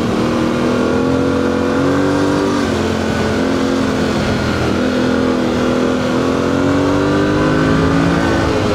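A Yamaha Tenere 700 motorcycle engine drones loud and steady while riding on a gravel road, its pitch rising and falling gently with throttle and wind rush throughout.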